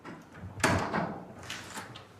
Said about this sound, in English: The team are able to enter the flat with the front door key.